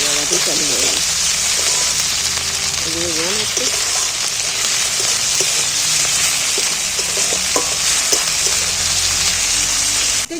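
Diced capsicum and chillies go into a hot pan with tomatoes and sizzle loudly and continuously, close and rain-like, with brief scrapes and clinks of stirring now and then.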